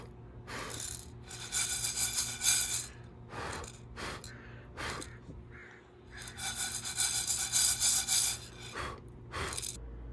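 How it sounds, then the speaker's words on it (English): Breath blown in repeated long bursts to clear chaff off roasted coffee beans in a pan, close and airy gusts separated by short pauses, faint rattling between them. "In this case, I'm just going to blow it out of the pan."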